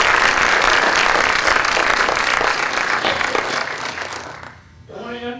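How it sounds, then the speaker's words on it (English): A loud round of audience clapping at a community recognition event, dense and close for several seconds before fading out, followed by a voice starting to speak. "let's have another round of applause for them."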